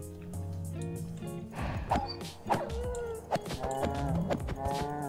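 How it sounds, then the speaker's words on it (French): A cow moos several times in modded Minecraft UHC game audio, with a short dog-like bark mixed in, close and clear. "Après ça fait un bruit de vache"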